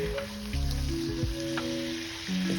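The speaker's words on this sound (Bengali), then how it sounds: "একটু কষা নিচ্ছি" Oyster, seasoning and soy sauces sauté in a hot pan for macaroni, a loud continuous sizzle and crackle with scraping stirs and utensil knocks throughout.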